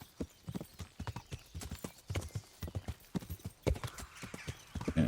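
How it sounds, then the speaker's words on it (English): Horse hooves clip-clop in a steady rapid gallop in the medieval game Kingdom Come Deliverance, close and continuous, with a brief whinny-like tone amid the hoofbeats. "Whistle for a horse."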